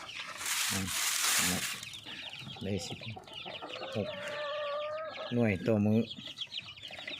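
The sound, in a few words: chickens clucking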